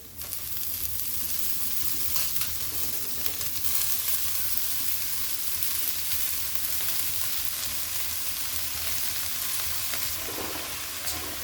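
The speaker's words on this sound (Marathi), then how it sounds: "आता आपण हे हिरव्या मिरचीचं वाटण परतलेलं आहे त्याच्यामध्ये भाजीला चांगलं परतून घेणार आहे" Fenugreek leaves sauté with green chili paste in a pan, giving a steady, close sizzle and frying hiss with occasional stirring scrapes throughout.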